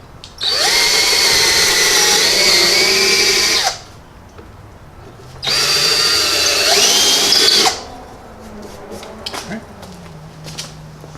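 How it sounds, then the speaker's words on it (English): A power drill whines loudly in two long bursts of about three seconds each, drilling holes for a tree-mounted solar camera stand, with a short quiet gap between and faint clicks afterward. "So we're just going to drill."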